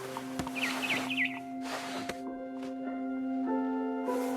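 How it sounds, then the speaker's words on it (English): A barn swallow chirping outside a window near its nest, giving a short run of faint, quick twittering notes over a quiet background. "Then I heard chirping outside my window. It was a barn swallow going back to her nest."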